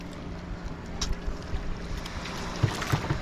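A small bangka boat moving across water, with lapping splashes and a soft wash of wind, faint and close, with occasional knocks against the hull.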